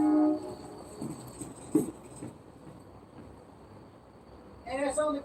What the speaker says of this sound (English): That guy is laying on the horn.